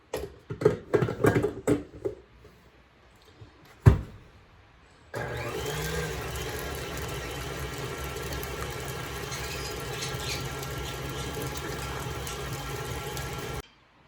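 An electric mixer whips butter, a steady mid-pitched motor whir running continuously for about eight seconds after a few brief clanks and knocks.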